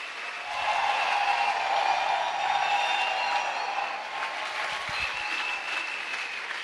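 A church congregation at a worship service applauds, a dense, sustained wash of clapping that swells and then holds steady, with a few scattered voices underneath.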